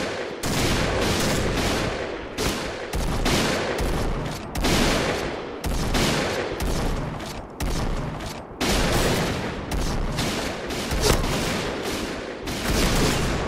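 PGM Hecate II sniper rifle and other gunfire in the Point Blank shooter game, a long run of loud booming shots and bursts at irregular intervals with short pauses between.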